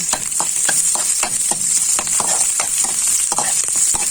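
Garlic, onion and ginger frying in a pan as clams are cooked: a loud, continuous hiss of sizzling oil with repeated sharp scrapes and clinks of stirring throughout, close and without talk.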